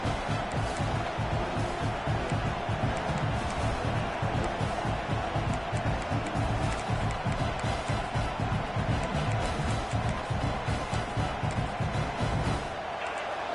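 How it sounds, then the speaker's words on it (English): A loud, dense stadium crowd roars and cheers continuously, with a steady rhythmic pulse running through the noise until it drops off at the very end. "Listen to the crowd energy here in the early going."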